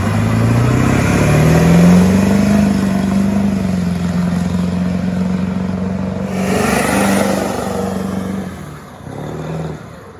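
An old 7.3 diesel truck engine with an EBPV delete revs up loud and close, its deep pitch rising and holding for several seconds, then falling off and briefly blipping again near the end.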